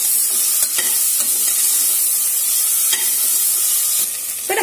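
Vegetables sautéing in a pan for sambar rice, a continuous close sizzle with scraping stirs now and then, no talk.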